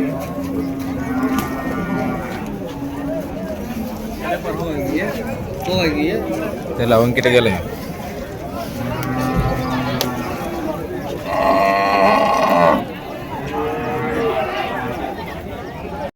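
Native bulls lowing at the Vaniyambadi cattle market, several moos rising over constant crowd chatter and nearby voices talking in Tamil.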